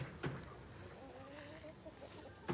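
Chickens on a farm give soft, scattered clucks and a drawn-out low call, faint and somewhat distant against quiet outdoor background.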